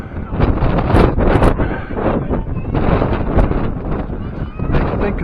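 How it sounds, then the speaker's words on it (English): Strong wind at Lake Placid's winter olympics sites buffets the microphone in a constant loud roar with gusty swells, sounding close and rough throughout. "Very windy."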